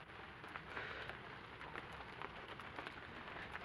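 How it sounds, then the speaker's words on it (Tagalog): Rain falling outdoors in an open area, a steady continuous patter and hiss with no talking over it. "umuulan na"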